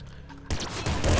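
Laser pistol shots in the top-down shooter Nuclear Throne come as a close, dense burst of rapid zaps that starts suddenly partway through and keeps going loud to the end, with a voice talking underneath.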